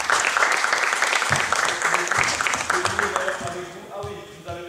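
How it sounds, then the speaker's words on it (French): An audience applauds children after a talk by a coach of the NF2 team at TBCA, dense clapping that fades away as voices begin speaking over it. "On peut les applaudir."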